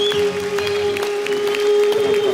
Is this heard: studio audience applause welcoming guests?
yes